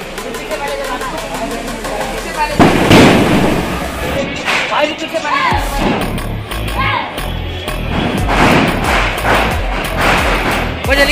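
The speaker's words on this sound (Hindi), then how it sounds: "ये तो थोड़ी सी जलाएंगे गोले बम" Gola bomb firecrackers exploding during Diwali celebrations at home: loud, booming blasts and crackling bursts close by, mixed with excited voices talking over the noise.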